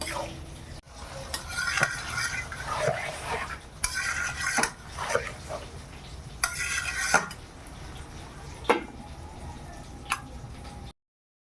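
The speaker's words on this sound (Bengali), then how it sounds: "ঢাকা খুলে আবার ভালো করে নেড়ে নিচ্ছি" Mutton curry stirred in a pot with the lid off for a thin red village-style gravy, a spoon scraping and clinking against the metal in uneven bursts, with wet bubbling drips in between and no talking.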